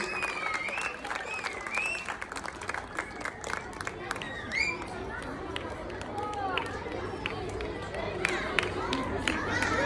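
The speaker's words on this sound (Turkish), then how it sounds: "Arkadaşlarımızı alkışlıyoruz. Güçlü bir alkış istiyoruz." Audience at a school artistic gymnastics awards ceremony applauds the Ankara champions. The clapping is steady and fairly close, with crowd chatter, scattered shouts and a voice mixed in.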